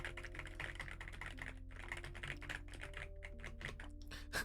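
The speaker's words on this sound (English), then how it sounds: "Look at the keyboard sound. The little clickety clacks." Fast typing on a clicky computer keyboard, a dense run of sharp clacks with short pauses, close and fairly quiet, with no talk over it.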